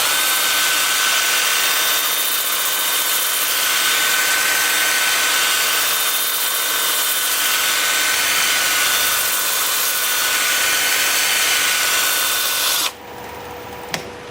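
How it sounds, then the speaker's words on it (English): A drill spins a wooden bowl at about 350 RPM for 120 grit sanding on a wood lathe, giving a steady whirring drone with a rhythmic rubbing swell, loud and continuous before cutting off abruptly near the end. "Now I'm going to fire up my drill and we'll spin the piece at about 350 RPM."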